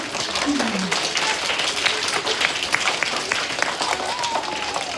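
Children at a gathering applaud steadily, a continuous wash of many small hands clapping at moderate loudness with faint voices mixed in.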